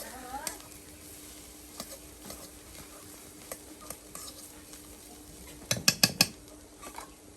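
Boiled helencha greens frying in oil with dried chilies in a village kitchen, a soft steady sizzle punctuated by scattered stirring taps and a cluster of louder clatters near the end.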